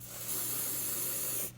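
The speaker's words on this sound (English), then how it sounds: "Just get you some hairspray. Spray the brush part." Hairspray sprayed from an aerosol can onto an eyebrow brush, one steady close hiss lasting just over a second before cutting off.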